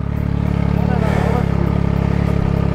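A motorcycle engine idling and lightly revving while the bike is pushed uphill, a steady close throbbing putter with speech over it.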